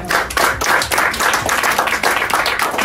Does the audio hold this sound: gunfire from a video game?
no